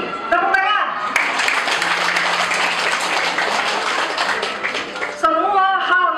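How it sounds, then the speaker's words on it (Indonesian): Audience applause at a Ramadan afternoon community eco-enzyme gathering in a Jatinegara Kaum flats complex: dense, steady clapping fills about four seconds between a speaker's talk before and after. "Tepuk tangan."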